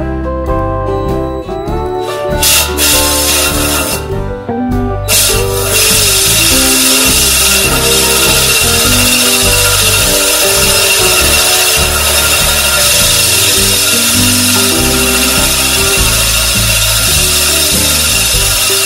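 A John Deere reel mower is backlapped with lapping compound acting like liquid sandpaper on the blades, a loud steady whirring and grinding that runs unbroken for the whole stretch, with a few shifting tones early on.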